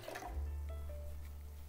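Boiled, cooled plain water and apple cider vinegar being mixed together, a short close liquid swirl with steady low churning and faint drips, no talking.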